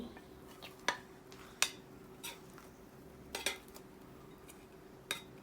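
Spatula scraping and clinking against a pan and plate as a fried egg (Thai fried-omelette style) is scooped out; several sharp, close metallic clinks spaced irregularly over quiet background, no talking.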